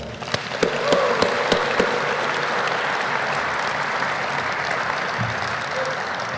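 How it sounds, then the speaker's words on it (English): A burst of applause from a crowd at a naval retirement ceremony, with a few sharp claps standing out at the start, then steady clapping sustained for several seconds. "Please join me in a round of applause."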